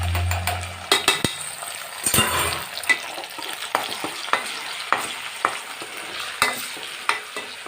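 Ginger garlic paste hitting hot oil with fried onions for a fish curry, a burst of loud sizzling followed by repeated sharp spatula scrapes and clinks against the pan, close by and without talk.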